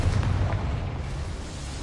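Confringo fire spell in the game Hogwarts Legacy, a deep booming explosion with a rumbling low tail that decays over about two seconds.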